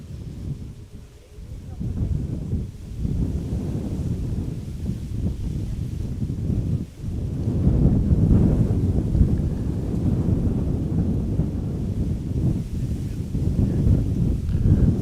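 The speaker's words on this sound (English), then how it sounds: "Wind is picking up a little bit, interestingly." Gusting wind at Amsterdam Schiphol Airport buffets the microphone as a steady, loud roar that swells and dips, with no talk over it.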